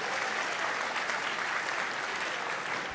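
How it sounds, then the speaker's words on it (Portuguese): A church forum audience on Valentine's Day gives sustained, dense applause that holds steady and loud throughout, with no voices clearly standing out. "Palmas para eles, gente."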